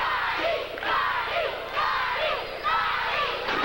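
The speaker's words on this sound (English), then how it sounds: "You can hear the crowd." A wrestling crowd roars and chants in repeated rhythmic surges, loud and dense, filling the hall with massed voices.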